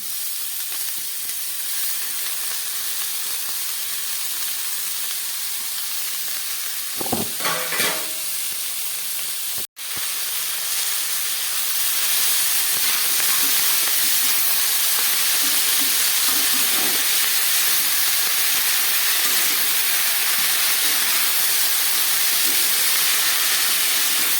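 Chopped sweet greens go into a pan of frying flat beans and potatoes with spices, setting off a loud, close, continuous sizzle and steamy hiss after a brief stir and a sudden drop.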